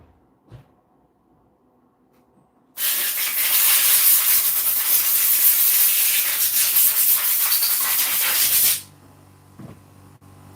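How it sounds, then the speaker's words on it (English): An air compressor blows dust out of a 2019 machine being repaired. After a brief quiet start, a loud, steady blast of hissing air runs for about six seconds, then cuts off abruptly. "I'm just going to use the compressor in this one."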